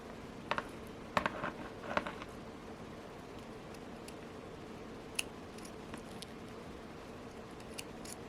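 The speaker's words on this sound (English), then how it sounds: "cut the thread" Scissors snipping jewelry thread for a handmade porcelain bracelet, with a few small, crisp close-up cuts clustered early and lighter clicks later over a faint steady background hiss.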